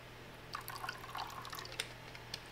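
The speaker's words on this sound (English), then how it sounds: "So I'm gonna do a little bit of vanilla extract." Vanilla extract poured into a mixing bowl with vegetable oil for an eggnog bread batter, heard as faint, scattered liquid drips and small splashes against quiet room tone.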